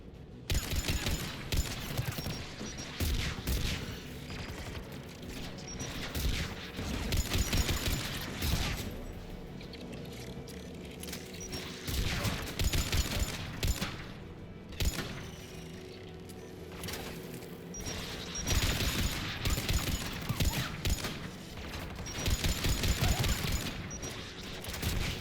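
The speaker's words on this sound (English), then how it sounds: "AA guns ahead of us." Anti-aircraft guns in Mass Effect 3 keep up a sustained, dense barrage of heavy gunfire. Loud bursts swell and ease in waves across the whole stretch, with no talking over them.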